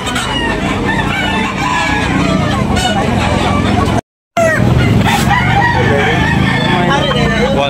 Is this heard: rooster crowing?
yes